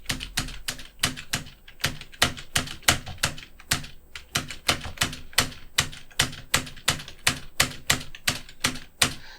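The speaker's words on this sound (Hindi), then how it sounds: "अभी जैसे हम टाइप कर रहे हैं" Keys on a computer keyboard struck one at a time at a steady, even pace while the letters ABCD are typed, each press a crisp close click with no talking.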